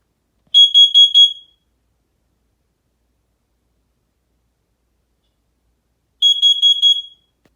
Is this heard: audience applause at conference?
no